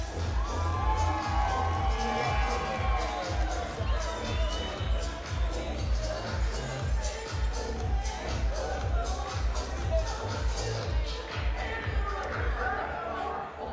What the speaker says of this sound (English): a massive round of applause for both of these men after 5 Such quality respect. rounds of action